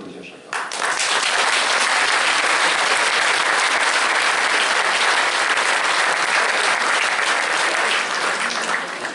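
An audience at a French New Year's greetings ceremony breaks into loud, sustained applause that starts abruptly and carries on steadily, dense clapping filling the room.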